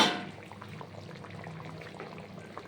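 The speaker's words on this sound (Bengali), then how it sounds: "ঠিক পাঁচ মিনিট টকবক করে ফুটবে" A katla fish tail curry simmers in a pot, a soft steady bubbling that follows a brief louder pour at the start and stays fairly faint and close throughout.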